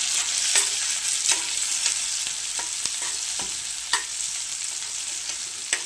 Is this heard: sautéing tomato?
yes